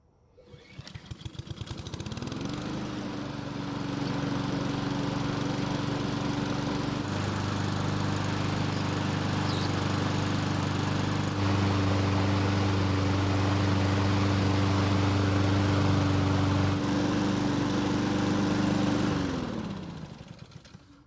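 A Honda lawn mower with locked-up rear wheels starts, runs at a steady loud drone for about twenty seconds, then winds down and stops.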